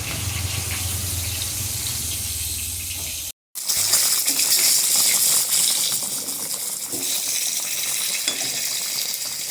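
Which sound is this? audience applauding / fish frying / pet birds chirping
fish frying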